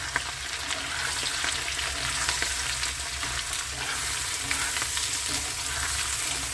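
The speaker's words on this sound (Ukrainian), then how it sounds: "От, гарно все перемішуємо." Sauerkraut stew sizzles and crackles steadily in a frying pan as it is stirred, a continuous close hiss with occasional scraping of the utensil and no talking.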